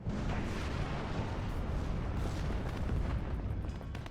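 Heavy artillery fire in the WARNO real-time strategy game on an urban front, a dense continuous low rumble of distant blasts and booms rolling steadily for about four seconds without voices.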